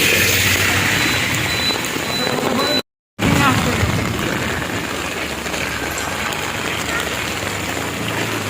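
Evening rain pours steadily at a bus stop, a dense continuous hiss of drops on surfaces broken by a brief dropout, with someone talking over it.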